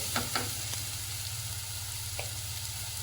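Finely chopped onions fry toward light brown in a pan for a vegetable paneer paratha filling, a low steady sizzle with a few quick spatula scrapes near the start, no voices present.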